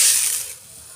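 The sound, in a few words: mustard seeds spluttering in hot coconut oil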